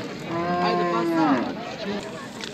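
A cow gives one long, close, drawn-out moo at a livestock market, with the bustle of the market behind it.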